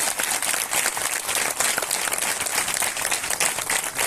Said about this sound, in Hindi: हम इससे अच्छी आराधना के लिए और प्रभु के उत्तम दास के लिए भी जोर से ताली बजाएंगे